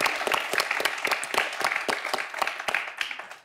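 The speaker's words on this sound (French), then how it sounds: "Vous pouvez vous applaudir" A studio audience on the French quiz show Questions pour un Champion gives a brisk, close burst of clapping lasting a few seconds and tapering off at the end.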